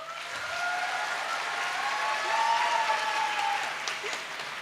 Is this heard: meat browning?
no